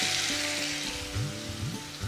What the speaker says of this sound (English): Then I add in about 1 medium-sized chopped onions. And I stir it in. You let this saute for about 3 or 4 minutes.